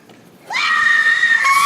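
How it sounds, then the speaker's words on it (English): A ghost woman from a Japanese mountain legend lets out a loud, sustained high-pitched scream that rises sharply and holds steady for over a second, alone with no talk. "Screams at him."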